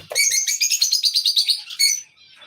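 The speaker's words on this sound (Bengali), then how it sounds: "এদিকেও বক্সের ভিতরে ঢুকে আছে অনেকগুলো পাখি" Pet parakeets tucked inside nest boxes give a quick run of bright, rapid chirps and tweets for about two seconds, fairly close and clear, then fall quiet.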